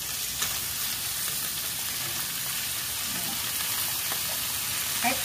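Bitter gourd (ampalaya) sizzles in a dry pan with no oil, a steady broadband crackle and hiss running throughout with a few soft stirring clicks, close and unbroken by talk.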